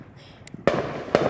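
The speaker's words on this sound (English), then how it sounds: "There's all the fireworks" Fireworks at an outdoor show go off in two sharp booming bursts with crackling tails, heard from a moderate distance with faint background noise between.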